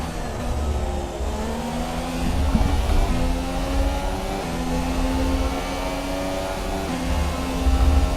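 A McLaren Honda Formula 1 car engine at Albert Park in the F1 2017 game, holding a steady high-pitched whine with small gear-shift steps and rises, continuous and close, without talk.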